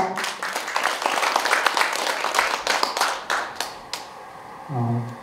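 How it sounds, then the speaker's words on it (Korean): An audience at a Korean arts and culture awards ceremony gives a round of applause, dense clapping that thins into a few scattered claps before a voice starts speaking at the end. "다시 한번 박수로 맞아주십시오."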